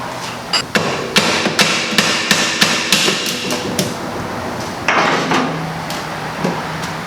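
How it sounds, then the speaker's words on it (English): Repeated sharp hammer blows on a car's tie rod during an E36 build, about a dozen loud metallic strikes in a fairly steady rhythm with short pauses, close to the microphone. "So I'm going to go ahead and hammer it down."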